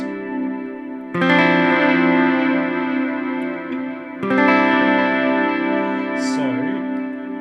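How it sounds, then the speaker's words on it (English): Clean ambient electric guitar through parallel delay and reverb, two sustained strummed chords ringing out with a shimmery, echoing tail and a brief pitch-bending swoop near the end. "You get this really nice kind of shimmery, clean delay type effect"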